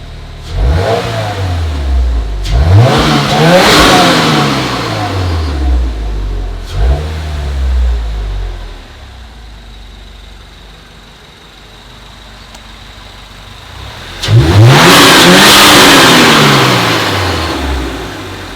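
A 2022 Subaru WRX with a new top-mount intercooler revs hard several times, each rise and fall of engine pitch loud and close, followed by a quiet idle and then one more strong rev.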